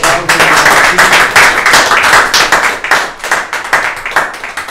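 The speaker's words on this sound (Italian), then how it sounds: "lascio il posto al maestro Daniele Adornetto. Ciao Daniele, un applauso" A seated audience claps warmly to welcome a pianist to a piano recital, dense applause sustained near and loud before thinning into scattered claps.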